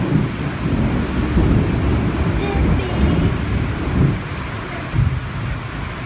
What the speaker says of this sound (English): There comes the lightning and the rain.